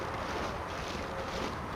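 Steady wind blowing across an open winter landscape in The Long Dark survival game, a continuous broadband rush with no gaps, moderately loud and unbroken throughout.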